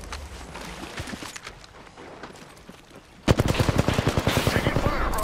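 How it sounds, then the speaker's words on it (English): Game gunfire in an Apex Legends match: quieter scattered shots at first, then from about three seconds a loud, rapid burst of automatic fire with closely spaced cracks, with faint in-game voice lines underneath. "Shots fired, and they're hitting me"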